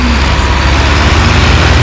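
Belarus tractors straining to pull a loaded beet trolley out of a ditch, a loud, steady, low engine roar close by with no pauses.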